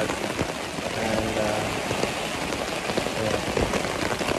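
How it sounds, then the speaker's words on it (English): Heavy rain pours steadily at night on a remote island, a dense close hiss of drops drumming on surfaces with no pauses and no voices. "been raining solid since I was to bed"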